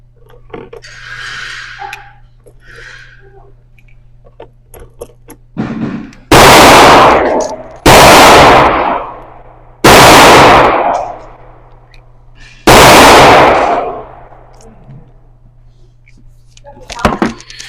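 A revolver fires four very loud, sharp gunshots at an indoor range, each one booming and echoing, spaced a couple of seconds apart. Someone speaks quietly before the shots.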